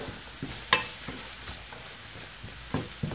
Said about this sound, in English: I just stir.